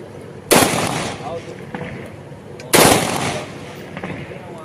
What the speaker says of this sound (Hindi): इसके अलावा अन्य अधिकारियों के द्वारा भी हर्ष फायर किए गए।